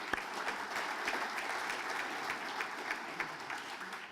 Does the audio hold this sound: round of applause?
yes